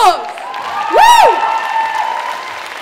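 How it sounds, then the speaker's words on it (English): An audience at a school fashion show bursts into applause with a sweeping whistle and cheering over it, a short loud burst close by. "Another round of applause!"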